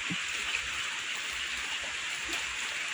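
Early-morning rain pours over rice fields, a constant close hiss of many drops striking surfaces, steady throughout with a few slightly louder drips and no talking.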